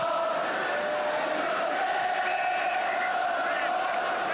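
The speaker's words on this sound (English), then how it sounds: "Those are the Chelsea supporters" Chelsea supporters roar in a packed stand at a 1972–73 football match against Manchester United, a dense, continuous crowd noise that stays loud throughout with a voice heard over it.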